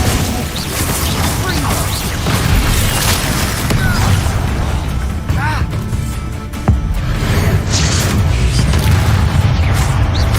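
Bombarda spell explosions in the wizarding game Hogwarts Legacy: loud, repeated booms and crashing impacts among busy combat noise, with one sharp crash standing out partway through.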